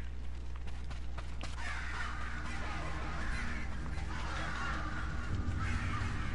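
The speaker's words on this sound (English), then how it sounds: "There's about to be crows everywhere." Crows caw in the video game Ghost of Tsushima, harsh calls rising over a steady low ambient drone at moderate distance.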